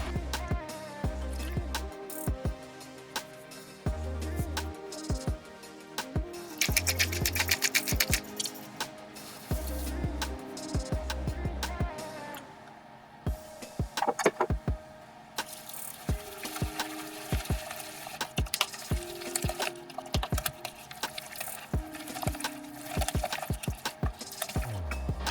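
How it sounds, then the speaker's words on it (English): A meatball mixture is stirred vigorously with a sturdy wooden spoon, giving repeated close knocks and scrapes against the bowl in an uneven rhythm, with no talking. "take out some frustration, I think, on this mixture by vigorously stirring it with a sturdy wooden spoon"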